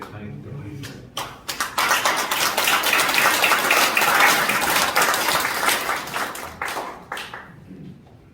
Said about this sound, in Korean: 크게 환영하는 박수로 보시면서 우리가 강의 듣도록 하겠습니다.